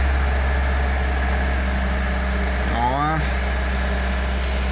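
A car engine idling with a steady low rumble and hum throughout, close and constant, while a voice briefly speaks over it midway.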